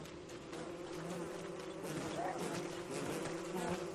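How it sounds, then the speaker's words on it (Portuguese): Swarming bees buzz steadily in the game Don't Starve Shipwrecked, a dense continuous drone over game background sounds and occasional thumps. "Nossa, tem um tanto de zangão, mano. Tem muito zangão."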